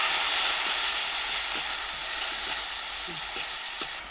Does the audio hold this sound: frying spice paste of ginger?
yes